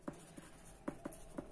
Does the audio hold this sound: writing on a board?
yes